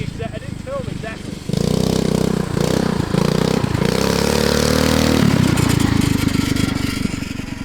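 A fat-tire motorized bicycle's small engine roars up loud and close after a quiet start, holding a steady buzzing drone with a few revving dips, while people talk over it.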